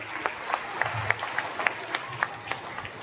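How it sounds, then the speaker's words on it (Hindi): A school audience of students at an Urdu school in Maharashtra claps for a boy in a blue shirt, a moderate crowd applause with scattered sharper individual claps standing out, fairly soft and roomy, continuing steadily throughout. "बजाओ इनके तालियां।"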